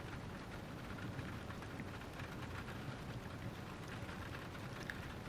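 Steady rain falls in the video game Witch on the Holy Night, a soft, even hiss with scattered patter, faint and unbroken throughout with no voices.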